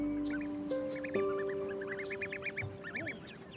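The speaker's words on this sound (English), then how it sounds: "the chirping call of ducklings can be heard from many nests" Ducklings chirp from nests on a wild northern coast: bursts of quick, high peeping notes repeat over a steady outdoor hum, with a few lower tonal calls mixed in, moderately close.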